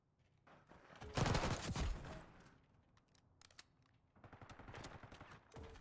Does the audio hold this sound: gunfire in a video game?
yes